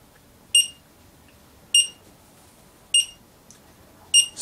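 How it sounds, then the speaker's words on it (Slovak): A Seitron Gas Sniffer gas detector emits short, bright electronic beeps at a steady interval of about one per second and a quarter, four in a row over a quiet background hum. "Správna funkcia detektora je indikovaná aj pravidelným pípaním."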